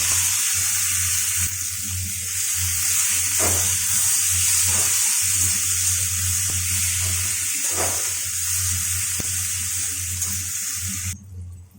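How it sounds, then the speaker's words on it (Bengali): A steady, bright sizzle of onion, tomato and green chili frying in oil, with a few soft clicks of a spoon against the pan. "এখানে পেঁয়াজ টমেটো কাঁচা লঙ্কা ভাজা হয়ে গেছে"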